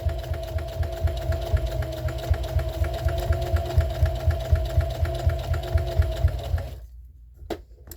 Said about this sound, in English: I'm back stitching at the corners because I want it to be